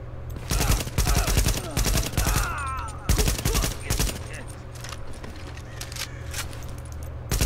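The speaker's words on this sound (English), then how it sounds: "Ah, it's a burst fire." Burst fire from a gun in The Division, sharp clustered volleys of shots in quick repeated bursts, loud and close, with a voice speaking briefly between them.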